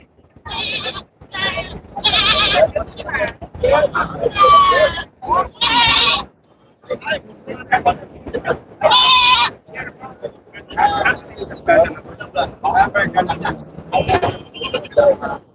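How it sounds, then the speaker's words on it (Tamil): Sheep and goats bleat repeatedly at a busy livestock market in Ettayapuram, Tamil Nadu, the loud calls overlapping with people talking nearby. "செம்மறி"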